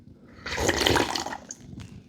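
Fish curry broth slurped off a plate in a single long, wet sucking draw that swells and then trails off. Two brief softer sips follow, with no talking.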